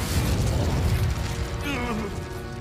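An Incendio fire spell cast in Hogwarts Legacy, a loud whooshing burst of flame with crackling, roaring texture that eases off, followed by fainter mechanical tones.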